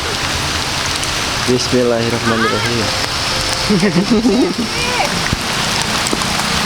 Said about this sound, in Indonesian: Hujan gede